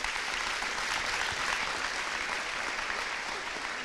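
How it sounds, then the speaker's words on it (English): Sustained applause from an audience at a school fall activities awards night, a dense, steady wash of clapping holding at even loudness from start to finish with no talk over it. "So I would love to give her a round of applause,"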